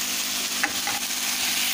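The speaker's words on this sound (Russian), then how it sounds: "жарю вот без масла вообще мясо" Meat frying in a dry pan with no oil, giving a steady close sizzle with a brief stir near the middle and no voices.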